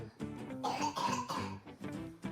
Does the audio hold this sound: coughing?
yes